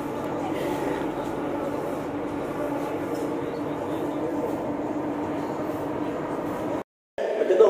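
A Delhi Metro train hums and rumbles steadily at close range, with a loud continuous interior drone and a brief dropout near the end. A person speaks over it.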